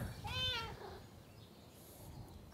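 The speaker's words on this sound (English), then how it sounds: "The cat is saying hello." A single cat meow, clear and close, rising then falling, followed by quiet room noise.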